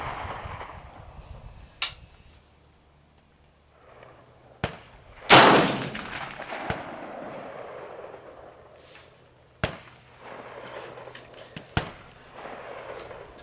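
An M1A rifle fired with surplus ammunition on a range, heard as one loud, sharp shot with a ringing tail, surrounded by several lighter distant cracks and clanks spaced a few seconds apart.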